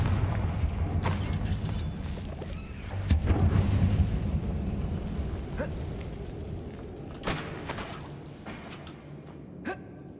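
In Hogwarts Legacy, the Confringo blasting spell goes off inside an abandoned mine, a deep explosive thud and rumble that rises around three seconds, then fades. A few fainter thumps and clatters follow, with a quiet voice now and then.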